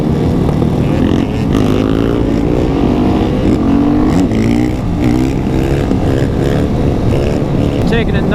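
A group of motorcycles, among them Suzuki Gixxers, Yamaha FZ-09s and R1s, Husqvarnas, KTMs, DR-Zs and a Harley, idles and revs loudly up close. The throttles rise and fall in a constant roar with voices mixed in.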